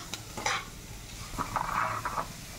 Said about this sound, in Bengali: বন্ধুরা, ডালটা একটু নাড়াচাড়া করতে হচ্ছে